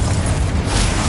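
A Confringo fire spell from Hogwarts Legacy erupts in one sustained, loud, booming blast with dense low rumble and hiss throughout, heard alone.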